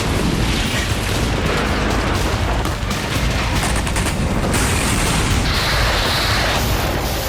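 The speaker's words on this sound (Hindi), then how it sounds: "और लगातार धमाके होते रहे।" Bomb explosions over northern Gaza during a night of Israeli bombardment, a loud, continuous barrage of blasts and rumbling booms with no letup.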